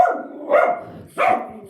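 A dog barks twice, close and loud, with short sharp bursts about half a second apart.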